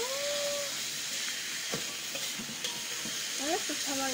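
Sambal chili paste with tamarind sizzles and fries in a pan while being stirred, a steady hiss with occasional scraping strokes, fairly close and unaccompanied by talk.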